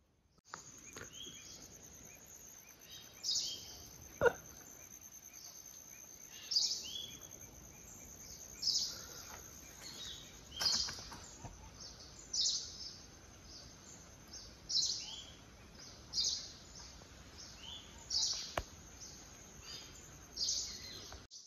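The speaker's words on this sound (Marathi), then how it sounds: "आणि थोडासा ऊन पण बाहेर पडला आणि पक्ष्यांचा आवाज येतो बाहेर भरपूर." Birds calling outdoors in the morning, a series of short bright chirps repeating every couple of seconds over a steady high insect-like drone, moderately distant with no talking.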